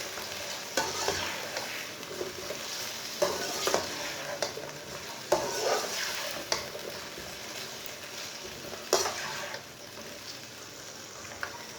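Peas and potatoes being stirred in a pot for matar pulao give a low frying hiss with repeated scraping strokes and spoon knocks at irregular intervals, heard up close with no talking.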